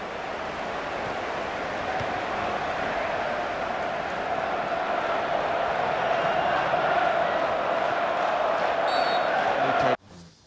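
Stadium crowd in FIFA 15 football game applauding and roaring as a continuous, broad swell of noise for about ten seconds before cutting off abruptly.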